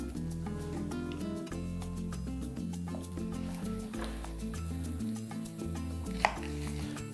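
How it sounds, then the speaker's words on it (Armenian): Vegetables are finely chopped on a board for stuffed peppers, with a rapid series of short knife taps close by, partly under steady background music. "մանր եմ կտրատում, որ հեշտ լինի հետո խճողել պղպեղները"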